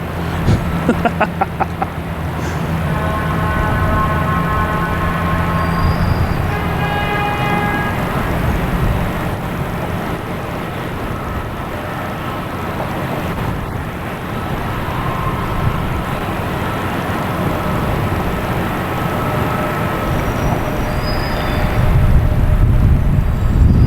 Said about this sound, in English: We have a United Airlines heading to LAX, flight 333, 737, MAX 9